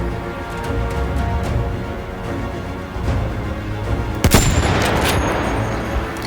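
Battlefield 1 combat with an anti-tank rifle firing on infantry, one sharp heavy crack standing out above a rumbling battlefield backdrop of distant shots and explosions.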